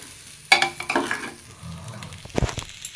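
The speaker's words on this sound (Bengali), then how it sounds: "চাল, আলু, মিষ্টি কুমড়ো, ডাল দিয়ে মশলা দিয়ে খুব ভালো মতো কষানো হয়ে গেছে।" Rice, potato, pumpkin and lentils frying with spices for khichuri, a low sizzle broken by several scraping stir strokes and utensil knocks against the pot.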